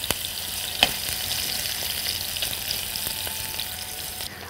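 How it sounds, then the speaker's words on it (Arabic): Apples frying in a pan, a steady close sizzle with a sharp clink near the start and a few faint stirring ticks, heard without talk. "ودلوقتي هضيف لها التفاح، وبرضو عايزة احمر التفاح معاها شوية."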